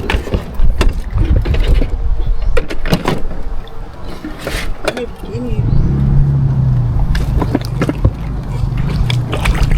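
Small wooden boat out on the water at low tide, with engine hum, splashing and bumping knocks while people talk nearby throughout.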